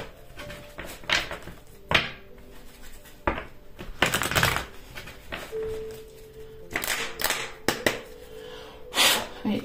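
Tarot cards are shuffled by hand, giving soft riffling and slapping sounds in scattered bursts, close and moderately loud, with faint background noise and occasional light knocks.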